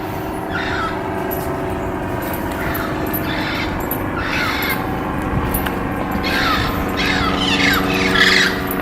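Parrots squawk from trees at the Colorado Lagoon. Several harsh calls come at intervals over a steady outdoor hum, and a louder cluster of calls arrives toward the end.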